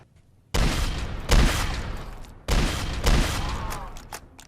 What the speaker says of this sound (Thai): ยิงซอมบี้ด้วยกระสุนไรเฟิลเนี่ย